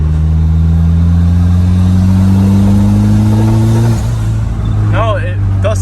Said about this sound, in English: I'm gonna do one little pull in fourth gear